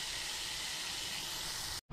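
Water heating in a pot to steam dhokla gives a steady, even hiss of boiling and steam that carries on without a break, then stops abruptly before a sudden louder noise.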